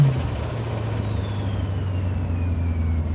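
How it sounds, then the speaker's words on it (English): Turbo V8 in a 1984 Ford XE Falcon wagon spooling up on the road, a sustained engine drone with a rising then gliding high-pitched turbo whine over it, loud and continuous. "get that turbo spooling because it sounds just amazing"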